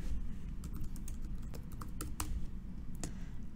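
Keys on a computer keyboard are tapped in short, uneven bursts as a name is typed, close and fairly loud against a steady low background hum.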